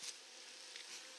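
Honeybee swarm buzzing at a hive box during the rescue of a swarm from a tree trunk, a steady faint hum with a few louder passes of bees flying close.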